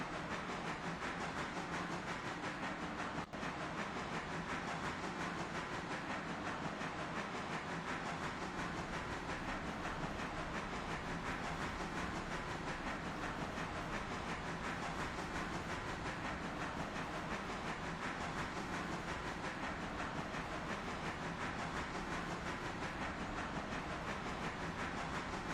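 A freight train with a locomotive running in the RailRoader video game, a steady, unbroken rumble and hiss with faint wheel clatter that holds even for the whole stretch.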